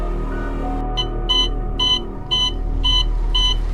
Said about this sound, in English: The seatbelt alarm was screaming.